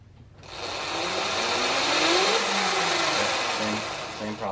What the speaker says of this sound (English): Okay, I'm gonna give it a little throttle.